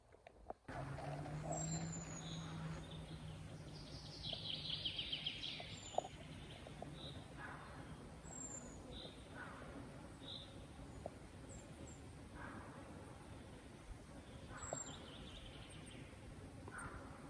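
Faint, high chirps and calls from several birds scattered through a quiet fir forest on a mountain trail, some distant, over a soft steady background hiss.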